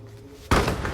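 A single loud door bang, a sudden thud as a door shuts, following a quiet stretch, with some reverberant rumble after.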